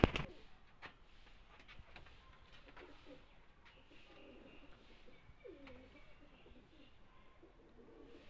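Slate pigeons coo in a few soft, low, rolling phrases, faint and spaced out over a quiet background with light scattered clicks.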